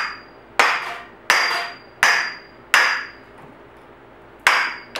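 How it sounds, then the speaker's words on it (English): A hammer strikes a tube bending tool with six sharp, ringing metallic whacks at roughly even intervals, each decaying quickly, close and loud, with no speech. "Just give it a good whack."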